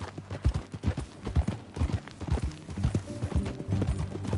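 Horse hooves clip-clopping at a steady walking pace in the video game Red Dead Redemption 2, close and clear, with a brief snort of breath.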